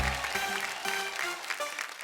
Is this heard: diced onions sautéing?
no